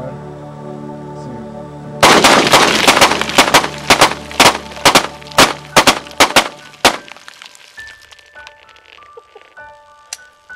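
A rapid burst of about a dozen gunshots rings out, loud and close, with sharp, evenly spaced cracks over a low background hum that trails off into quiet afterward.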